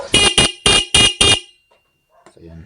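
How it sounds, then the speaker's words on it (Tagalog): Five short loud blasts from a stock motorcycle horn in a quick, even rhythm, followed by a brief pause and faint low rumbling. "tumunog yung ating stock horn"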